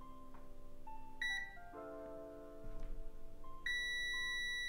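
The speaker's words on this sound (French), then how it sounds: "là ça bip. Ça veut dire que c'est bon." A multimeter's quiet electronic continuity tones beep and shift pitch several times, ending in a sustained high beep, with faint background hum and no speech.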